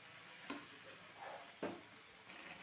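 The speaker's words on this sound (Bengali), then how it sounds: "খুব ভালো করে মশলার সাথে নাড়াচাড়া করে নেব।" Chopped bottle gourd greens are stirred with spices in a pan, giving a soft steady sizzle with two sharp clinks of a spoon against the pan; nobody speaks.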